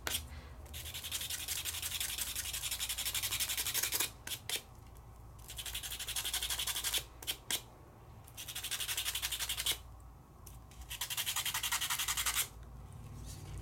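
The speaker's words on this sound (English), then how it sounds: "you just sand it off." A colored pencil tip is sanded off on a sanding block in long, close rubbing strokes, steady and loud, broken by brief pauses, with no talking.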